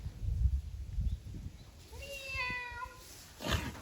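A cat meowing near an elephant, with thumping and shuffling sounds at the start, then a clear drawn-out meow and a short final cry, close.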